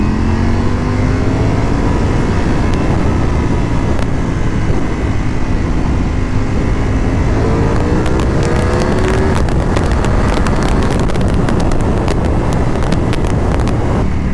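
A Ducati Panigale V4 superbike accelerates hard, its engine note rising in pitch through the gears under heavy, constant wind buffeting on the microphone, loud and close throughout.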